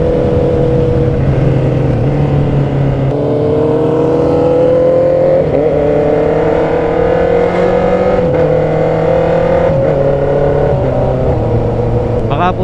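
A loud Honda CB650R motorcycle engine hums steadily and rises in pitch through several stretches, dropping briefly between gears as it accelerates, close and continuous.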